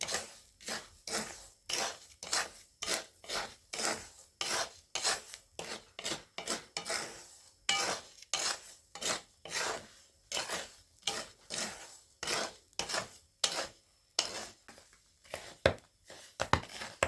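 Dry peas stirred and roasted in a pan in a village kitchen, giving repeated rhythmic rasping scrapes of a spoon and rattling peas, steady and close, with no talking.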